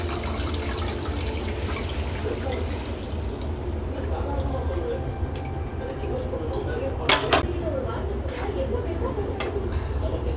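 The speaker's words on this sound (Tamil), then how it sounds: "புளித்தண்ணி கரைச்சது கொஞ்சம் அப்படியே ஊற்றிக்கலாம்." Tamarind water, dissolved ahead of time, poured into a pot of garlic kuzhambu with drumstick leaves in a Tamil home kitchen, a steady liquid stream under low background noise with a few brief splashes.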